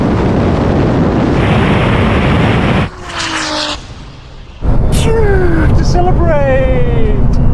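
An 1100 hp Nissan GT-R and a Porsche 911 Turbo S launch in a drag race: a loud, close, broadband roar, a brief quieter lull, then a second surge of roaring engine with a rising whine, with people talking over it.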